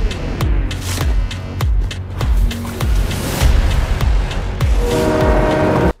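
A train in a Fortnite Chapter 5 game trailer rumbles loudly through a repeating rhythm of heavy low thuds, with sharp clanks and a mechanical roar. A brief horn-like tone comes in near the end.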